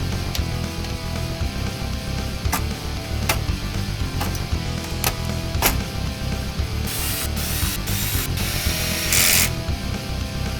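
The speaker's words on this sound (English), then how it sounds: "Now I install the logic board standoffs, and then the logic board itself." Screws and small metal parts are fitted as logic board standoffs and a logic board go into an Apple //e clear case, giving a steady run of close mechanical clicks and ratcheting with a few sharp taps and a brief louder buzz near the end.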